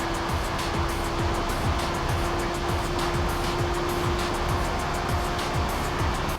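Race car in a Le Mans racing video game, a steady loud engine drone at speed on a straight with a constant high whine, continuous throughout.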